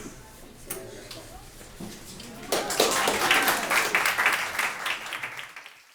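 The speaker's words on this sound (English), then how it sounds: "Give him a round of applause." An audience at a youth leadership breakfast bursts into a round of applause, dense close clapping swelling after a few quiet seconds and then tapering off.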